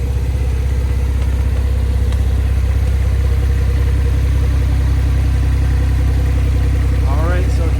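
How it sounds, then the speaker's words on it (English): A 2020 Porsche 911 Carrera S Coupe with a 3.0-liter twin-turbo engine and PDK gearbox idles steadily nearby, its low exhaust rumble continuous and even, with a person talking over it. "listen to the exhaust idling here"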